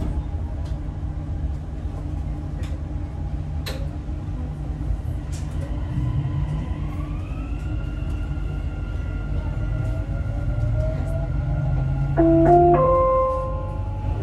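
Dubai Metro train running in 2023, a steady low rumble of the carriage with rising motor whine tones, swelling slightly louder near the end with brief squealing tones, no talk.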